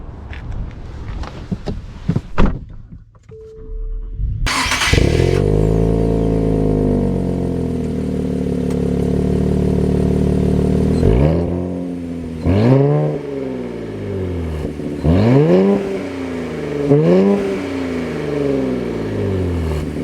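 A 2024 Nissan Z Performance with an automatic transmission starts up and drives off, its engine surging through several rising revs and gear changes, loud and close, with no talking.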